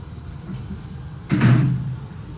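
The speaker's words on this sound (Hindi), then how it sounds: "दरवाजा बंद कर दें।" A door closing during an online lecture, a sudden sliding thud and rattle cutting through a quiet room hum, then fading over about half a second.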